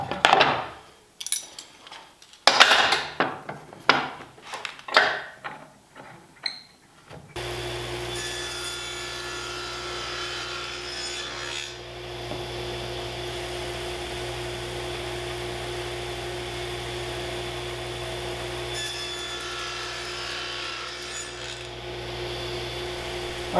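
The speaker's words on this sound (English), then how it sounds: "Now I'm going to create a chamfer around the edge of this." Chamfering the edge of a handmade wooden wine box: several seconds of uneven scraping and rubbing strokes on wood, then a steady, continuous power-tool whir that holds at an even level to the end.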